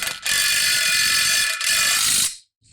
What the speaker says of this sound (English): So we're going to go ahead and get the center bolts on first.